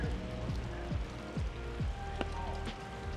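Steady rain patters on a surface at Holley Ford Fest 2024, with faint low engine-like hum and sweeping tones in the background; no voices.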